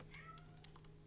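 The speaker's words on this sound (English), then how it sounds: "Oh, my cat's crying." A domestic cat meows indoors, a few short faint cries over a steady low hum, with soft keyboard typing clicks mixed in.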